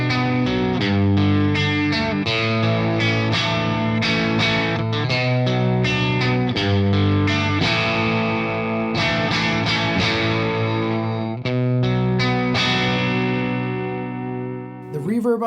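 Electric guitar played through a point-to-point hand-wired Badcat Cub V EL34 tube amp in its 12AX7 mode, ringing out steady, sustained chords that sound loud and full from start to finish, with no talking.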